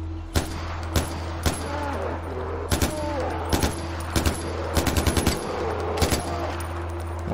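Gunfire in the video game Far Cry 4: a string of sharp, loud shots in short bursts and single cracks over a steady low game hum, with faint tonal chirps between them.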